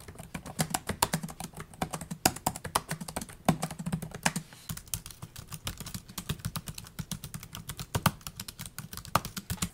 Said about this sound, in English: Here's a quick audio sample of me typing on both of these keyboards.